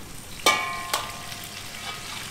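Potatoes and meat for Georgian ojakhuri stirred in a sizzling pan, two sharp metallic scrapes of the utensil over a quiet, steady fry.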